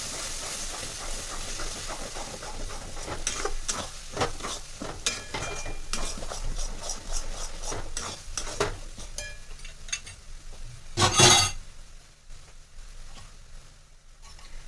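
Beaten eggs stirred into mashed eggplant bharta in a pan, a steady wet scraping and stirring with a soft sizzle of oil underneath, one brief louder clatter near the end.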